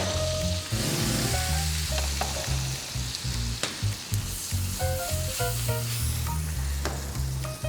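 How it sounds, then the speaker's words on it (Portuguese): Onion sizzling and frying in a hot pan, a steady loud crackle throughout with occasional stirring clatter and no talk. "a cebola vai começar a dourar"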